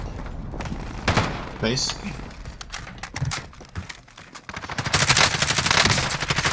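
Rapid automatic gunfire and bursts of shots crackle in a first-person shooter video game, with irregular volleys and booms while players talk over the action.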